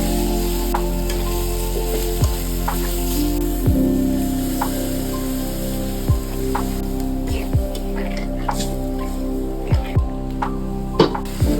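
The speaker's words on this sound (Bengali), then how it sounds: "শোল মাছটা দিয়ে দিচ্ছি।" Shol fish dropped into a pan of simmering water with onion-garlic paste, turmeric and chilli, giving a steady sizzle broken by several sharp stirring clicks and scrapes, close and fairly loud, with no speech.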